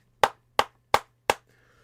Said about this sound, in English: I just sync up when my two hands meet and the clap sound on the audio track